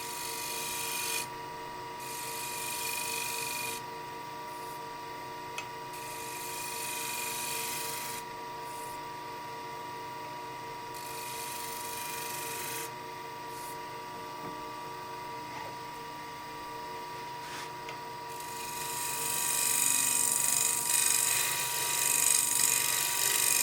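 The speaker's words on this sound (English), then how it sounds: "And shear scrape it." A wooden bowl for a client is shear scraped on a lathe, giving a continuous mechanical whir with repeated bursts of high, thin scraping that cut in and out, growing louder near the end, with no talking.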